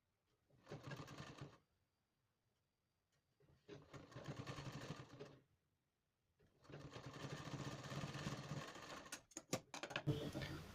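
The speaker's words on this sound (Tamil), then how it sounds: "இதில் வந்து ஓரமாக வச்சு நான் வந்து தைச்சி காட்டுறேன்" An electric sewing machine stitches a design blouse neck in three separate runs, each a fast rattling whir. The runs grow longer and end with a few sharp clicks, and the machine falls quiet between runs.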